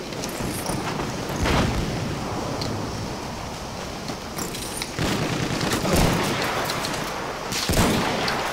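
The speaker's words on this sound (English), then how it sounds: "Scare him off with that nade." Battlefield 1 combat: dense, continuous gunfire with sharp cracks and booming explosions, including a grenade blast, rolling over each other at high volume without pause.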